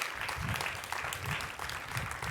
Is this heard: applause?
yes